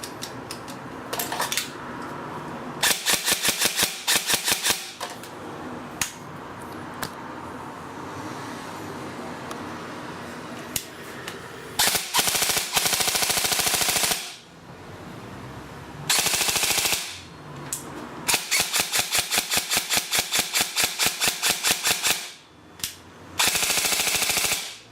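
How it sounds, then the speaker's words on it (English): A Tokyo Marui M4A1 SOCOM airsoft gun fires loud, rapid full-auto bursts of crisp, even clicks, several long strings separated by short pauses, in a workshop. "as you can see, the gun's working nicely"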